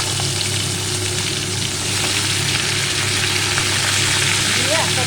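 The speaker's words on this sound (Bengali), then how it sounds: "জিরে শুকনো লঙ্কা তেলে দিয়ে দিচ্ছি ফোরনের গন্ধটা বেরোতেই তার মধ্যে আমি ডাঁটাটা আর আলুটা দিয়ে দিলাম" Bottle gourd stems and potatoes frying in oil with cumin and dried chilli, a loud, dense, continuous sizzle heard close up over a low steady hum, with occasional faint stirring.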